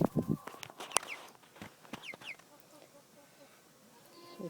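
A pet chicken clucks close by in a quiet spot, a few short bursts of clucks and chirps with light scuffing steps, fading to near silence.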